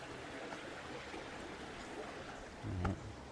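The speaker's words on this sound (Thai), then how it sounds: "มานอนฟังเสียงน้ำไหลนะผม ฟังเสียงน้ำไหลเสียงลมนะฮะ" Water flows in a forest stream after a storm, a faint, steady rushing wash. A brief low bump comes near the end.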